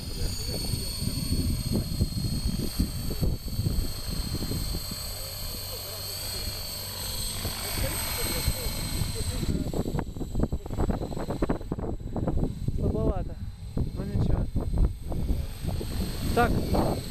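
An RC model aircraft making a low, level warm-up flight outdoors, its engine a steady distant whine, with people talking intermittently nearby.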